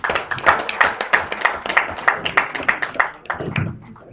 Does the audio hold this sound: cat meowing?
no